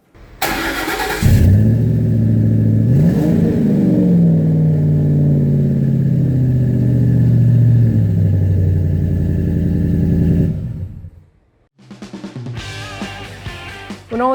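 A Ford F-150 with the 5.4L 3-valve V8 cranks and starts after exhaust manifold replacement, then idles loud and steady for about ten seconds before cutting off and restarting briefly.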